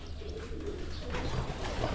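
Breeding pigeons in a loft, soft low cooing with faint chirps over a steady hum of background noise, close by and without talking.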